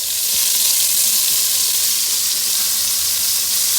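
Flour-dredged meat seasoned with cumin frying in bacon grease in pots, a loud steady sizzle with bright crackling hiss, continuous and close throughout.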